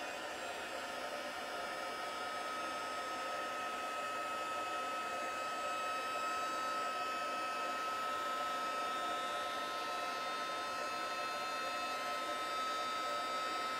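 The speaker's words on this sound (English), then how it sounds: "so we'll bring in the heat gun, just forgive the noise for a second" A heat gun used for card embossing runs continuously, a steady whirring fan roar with a high whine, loud and unbroken throughout, with nobody talking.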